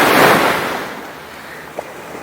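Ocean waves at the seaside on a calm, windless day: a surf wash swells at the start and then fades to a softer hiss, with a brief faint tick near the end.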